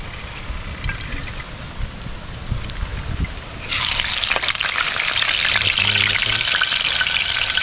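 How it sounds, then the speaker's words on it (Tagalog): Mudfish (dalag) heads drop into hot cooking oil and fry with a sudden loud, dense sizzle that swells halfway through and holds steady, following quieter bubbling and scraping at the start, with no talking. "Ilat na natin sa mantika"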